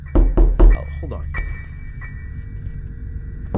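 Three loud knocks on a door up close, followed by a quieter hum of room noise; a voice speaks faintly around them.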